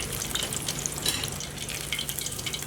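Scotch eggs frying in hot oil, a close continuous crackling sizzle with dense pops, steady and loud with no talk.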